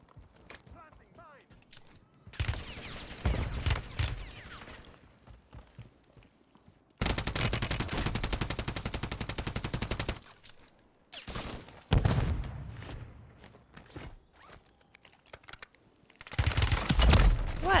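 Gunfire in a Call of Duty match: loud bursts of rapid automatic fire in several separate volleys, with quieter stretches of footsteps and mechanical clicks between, and players talking over it.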